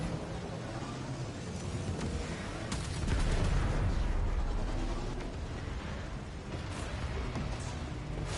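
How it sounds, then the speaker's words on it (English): Torpedo launches by gunnery crews aboard a ship in the sci-fi game Warframe, heard as a low rumbling blast that swells midway over a steady roar of noisy battle ambience. "Gunnery crews, launch torpedoes."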